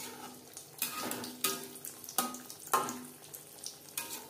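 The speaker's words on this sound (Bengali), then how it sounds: "এভাবে ভাজলে প্রত্যেকটা প্যাটিস ক্রিস্পি হবে।" Chicken patties fry in hot oil over a low flame, giving a steady close crackle and sizzle with several sharper bursts of spattering throughout.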